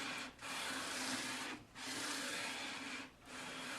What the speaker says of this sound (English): You don't want to sand in sections. You want to go straight up and down with it.